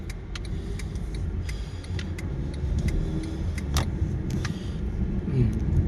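Steady street traffic on Lat Phrao Soi 112, cars rolling past at close range with a continuous low road rumble and a few brief clicks and rattles, no talk.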